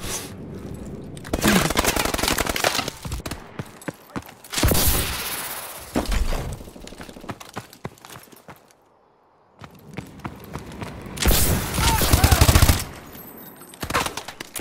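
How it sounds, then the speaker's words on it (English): Bursts of automatic gunfire and explosions from Call of Duty: Advanced Warfare erupt in loud clusters, separated by short lulls and a near-silent gap, with game voices calling out among the shots. "suppressive fire"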